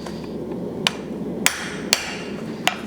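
A blacksmith's hammer strikes hot steel at the edge of an anvil, four sharp ringing blows spaced unevenly over a low background hum, close and loud, with no speech.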